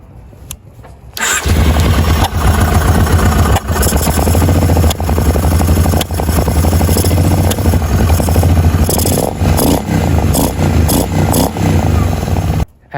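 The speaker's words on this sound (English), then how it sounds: "it is popping through the carburetors, and right now it isn't popping through the exhaust" KFX700 sport quad with a faulty carburetor setup, engine starting and then revving hard with loud popping backfires through the carburetors, a steady roaring run close by for about twelve seconds before cutting off.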